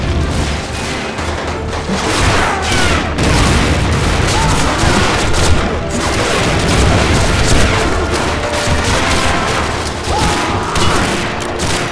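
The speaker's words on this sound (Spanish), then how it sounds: "¡Una granada!" A grenade goes off amid a Spanish Civil War battle in Call of Duty 2, loud booming blasts layered into continuous heavy rifle and machine-gun fire throughout.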